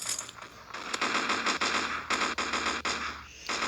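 Rapid automatic gunfire from the blocky shooter game Block Gun rattles almost nonstop in loud, close bursts with only brief gaps between strings of shots.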